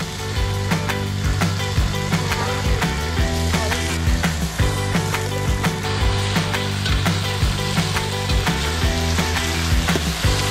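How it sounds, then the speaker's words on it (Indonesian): Vegetables sizzling and crackling in a wok over a golden sautéed spice paste, a dense, continuous frying hiss with rhythmic scraping and stirring clatter throughout. "Kalau tumisan bumbu sudah mulai menguning, saatnya si sayur sendokan masuk ke wajan."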